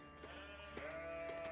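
Sheep in a strategy video game bleat faintly in a few short, wavering calls, one longer bleat held near the end, over a quiet steady background.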